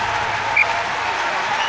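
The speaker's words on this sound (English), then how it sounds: "a little cheer as Colin Gregor claps as he goes back" A small cheer and scattered applause from the crowd at a rugby sevens match, Scotland versus Fiji at the Glasgow Sevens, a brief, steady wash of crowd noise with faint commentary underneath.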